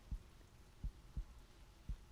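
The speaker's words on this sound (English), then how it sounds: "I haven't had a heartbeat in so long." A low, muffled heartbeat effect in a soft-spoken ASMR roleplay: four deep thumps at an uneven, slow pace over a faint steady hum, with no talking.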